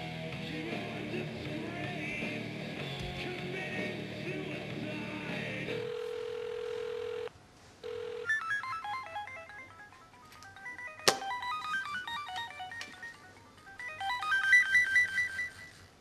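A phone call sounds through a telephone: a steady dial tone, then a single long tone and a sharp click, followed by bursts of ringing tones, all fairly quiet with no clear talk.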